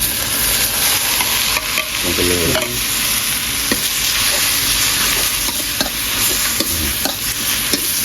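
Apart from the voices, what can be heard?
frog meat stir-frying in wok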